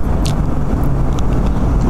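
Heavy road traffic heard from a moving motorcycle, a loud continuous low engine and road rumble that stays steady throughout, with a few faint higher clicks on top.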